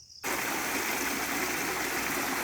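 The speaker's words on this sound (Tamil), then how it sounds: "வாத்தெல்லாம் விளையாடுறதுக்காக தண்ணி அளவாக எடுத்து விட்டுருக்குறோங்க" Steady rushing water pours from a motor pump into a pond for ducks on a village farm field, starting abruptly after a brief quiet moment and then continuing loud and constant.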